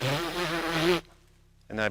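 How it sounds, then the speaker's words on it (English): Lips buzzing as a trombone player blows air through them, a steady near buzz about a second long, preceded by a person speaking and followed by a short quiet gap. "I blow air through my lips and make them buzz like this."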